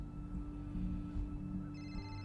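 A phone's ringtone chimes in partway through, a bright tone rising over a steady low hum and faint background sound in a quiet indoor scene.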